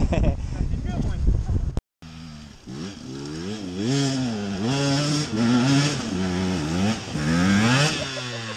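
A KTM enduro motorcycle engine revs repeatedly on an off-road trail, its pitch rising and falling in loud, close surges after a brief cut-out, while people talk over it.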